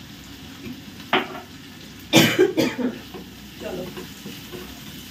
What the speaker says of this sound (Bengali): এইবারে কাজ হচ্ছে এই মশলাটাকে খুব ভালো মতন করে কষাতে হবে।